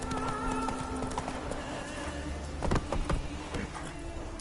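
Roach, a horse in a video game, trotting with steady clip-clop hoofbeats close by, a few louder hoof strikes midway, over a faint ambient game background.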